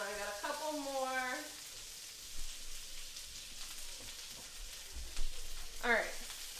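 Green beans hiss and crackle steadily in butter in a pan, a close, soft, continuous frying sizzle with a few clicks and knocks, and short bursts of voice at the start and near the end.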